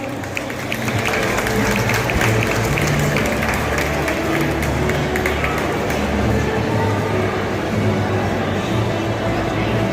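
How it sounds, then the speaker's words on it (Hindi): Sustained applause from an audience at a cultural event in a Dehradun shopping mall, steady, loud and unbroken for the whole stretch, with crowd murmur mixed in. "एक बार जोरदार ताली हो जाएगा हमारे करीब।"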